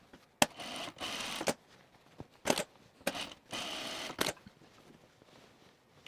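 A sewing machine top stitches the yoke seam of a camp shirt, running in three bursts of steady whirring stitching separated by short pauses and sharp clicks, close by with no talking.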